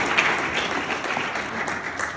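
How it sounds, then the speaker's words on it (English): Short burst of dense, even applause from an audience at an investment talk in Sudbury, many hands clapping at once with no speech over it. "let's give him a round of applause and start"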